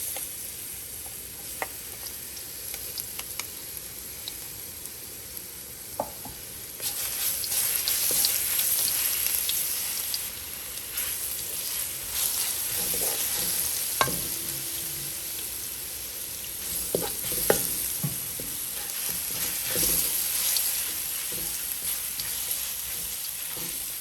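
Chopped garlic frying in two tablespoons of hot vegetable oil gives a steady close sizzle that swells noticeably partway through, with occasional clinks and stirring scrapes in the pan.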